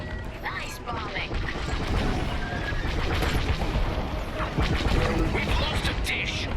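Bombing explosions and dense combat noise from the Star Wars Squadrons space-combat video game in VR, a continuous loud barrage of crashes and mechanical clatter with voices talking over it.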